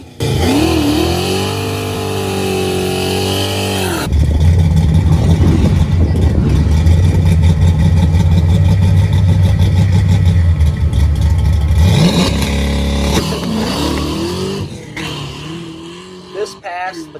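A nitrous-fed Ford Fox body idles with a rough, lumpy note, then revs hard and holds a loud, sustained roar during a run before easing off. A voice talks over the engine near the end.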